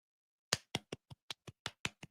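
Nine slow, soft hand claps in an even rhythm make a polite golf clap, close and isolated against silence.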